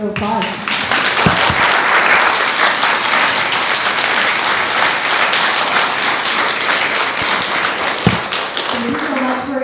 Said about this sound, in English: I think we owe our candidates a round of applause.